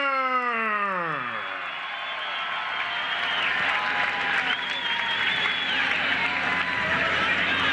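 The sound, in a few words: applause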